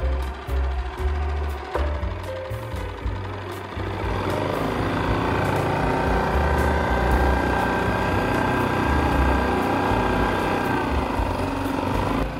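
A Yamaha 2.5 HP four-stroke outboard motor holds a steady half-throttle drone on the water, loud and continuous, its tone firming up after a few seconds with no talk over it.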